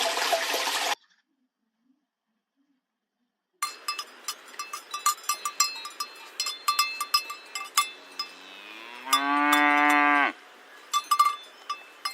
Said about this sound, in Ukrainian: А такі звуки я почула, коли корова йшла вулицею села,